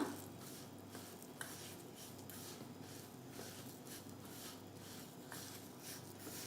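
Spice masala with salt is mixed in a pan for a ridge gourd dish, making faint, repeated scraping and clinking strokes of a spoon against metal at a steady, unhurried pace.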